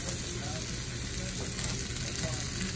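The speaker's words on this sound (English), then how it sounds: "it's been cooking for about 4 minutes, so we're going to flip" A blackened mahi-mahi fillet with a seasoning crust sizzles steadily in a pan right after being flipped, a dense, even frying hiss heard close with no voices.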